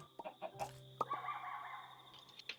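Chickens in the Minecraft video game cluck in a few short, quiet bursts over a faint background, with no speech.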